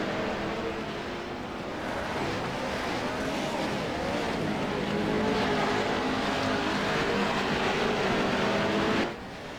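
Race cars run side by side in a close battle for position, their engines a steady, loud drone that builds slightly before cutting off near the end.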